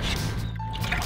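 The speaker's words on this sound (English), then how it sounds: "let's rinse it off real quick" Brief trickle of water rinsing a small toy dinosaur, a soft dripping, splashing wash lasting about a second, close and steady with a faint thin tone in the middle.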